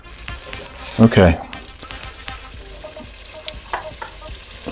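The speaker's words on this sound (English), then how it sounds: "we're gonna saute those onions and garlic together" Chopped onions and garlic sautéing in melted fat in a pan over medium heat for cream of mushroom soup, a soft sizzle with a loud clattering burst early on as they are added and stirred, and a voice speaks briefly.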